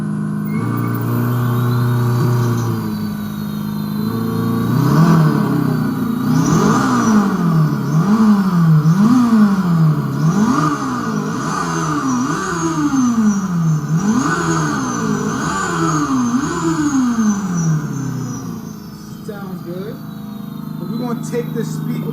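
An electric motorcycle whines loudly and close as the throttle is twisted repeatedly, its motor pitch rising and falling in quick sweeps before winding down, with a person's voice faintly present.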